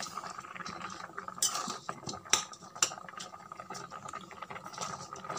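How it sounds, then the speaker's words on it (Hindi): A spoon stirs cooked tamarind in a pan to break up its lumps, producing soft scraping and occasional sharp clinks of metal against the vessel, close and moderately quiet, with no talking. "ये देखिए जहां जहां पर गांठें हैं वहां पर मैं इसे चलाते हुए इसकी गांठें खोल ले रही हूं"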